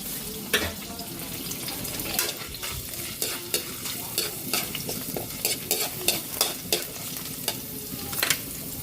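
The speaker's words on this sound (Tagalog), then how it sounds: "Magigisa na tayo. Lagay na natin yung garlic, bawang." Garlic sautés in a pan with a constant crackling sizzle. Rhythmic spatula scrapes and stirs come roughly every half second throughout.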